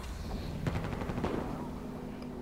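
Shotgun blasts in Battlefield 4 multiplayer on PS4, Dragon Pass map: a few sharp close reports amid a burst of rapid gunfire, over constant game background noise.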